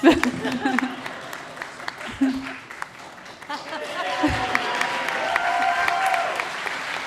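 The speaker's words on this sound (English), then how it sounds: "Let's clap him off" A crowd at a student pitch competition grand final claps off a presenter, the applause building from faint scattered claps under a speaking voice into a steadier, fuller round toward the end.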